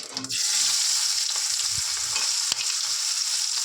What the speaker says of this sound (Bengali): জিরেটা লাল হয়ে গেছে, দিয়ে দেবো পেঁয়াজ